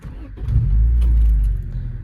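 A Honda Integra DC2 idles nearby with a low, steady rumble that swells slightly and holds, with some faint clinking over it and no clear talk.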